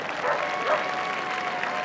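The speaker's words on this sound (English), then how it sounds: "give him a round of applause" Spectators at the Crufts dog show international large agility jumping event applaud steadily, a moderate, distant-sounding wash of crowd clapping with a faint murmur and a steady tone running beneath.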